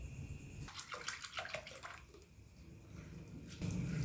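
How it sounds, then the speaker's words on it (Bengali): Water sloshes and splashes as sago pearls are washed in a bowl, with irregular pouring and swirling sounds close by and a louder rush of water near the end. "প্রথমে সাবুটা আমি জল দিয়ে ভালো করে ধুয়ে নেব।"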